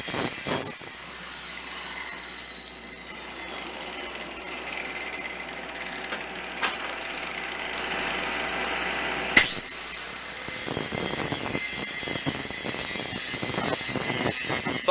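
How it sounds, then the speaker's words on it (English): An angle grinder bevels the edges of steel plates for a welded iron railing, making a continuous loud, high whine. About two-thirds of the way through, a sharp knock shifts the tone, and rough rasping grinding follows. "Now's a good time to take your angle grinder and put a nice bevel on these edges."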